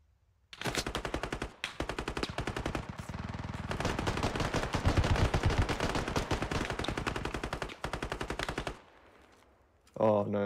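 Rapid bursts of automatic gunfire in the tactical shooter game Squad, loud sustained machine-gun volleys with brief pauses between strings of shots and a sharp sound at the end, with no talk.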